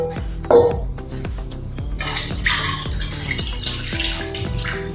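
Water is poured off rinsed semolina in a kitchen pot, producing a steady splashing rush after a brief clink, with rhythmic thumps running underneath.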